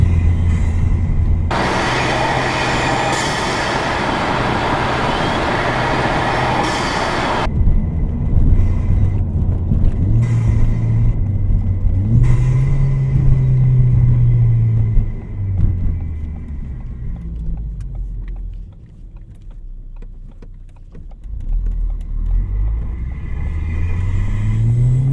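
A car with a very loud aftermarket intake pulls hard in fifth gear, its deep engine roar and intake rumble steady and close inside the cabin, the pitch rising slowly and then easing off, with no talking.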